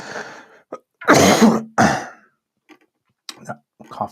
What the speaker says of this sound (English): That cough is not going.